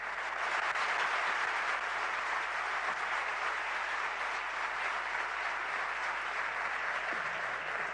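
An audience applauds steadily for Celeste at a youth gathering in Buenos Aires's Usina del Arte, the dense clapping holding loud and even for the whole stretch with no voices on top.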